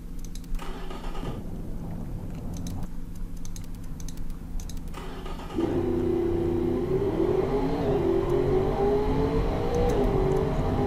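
A video-game Audi RS6 replica engine revs up with a steady, rising mid-pitched drone in the second half, after keyboard typing and clicks in the first part. Loud and close, no talking.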